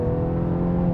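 Mini Clubman with an earlier gearbox pulls steadily under acceleration through a smooth gear change, a continuous close engine drone from inside the cabin with no talk.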